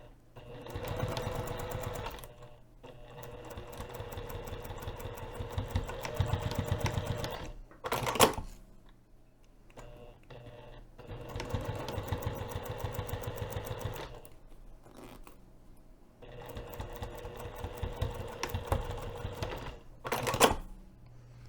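Sewing machine running top stitching on a hinged zipper pocket at a lengthened 3.5 mm stitch, rapid mechanical chatter in three long bursts separated by pauses and brief clicks, with no talking.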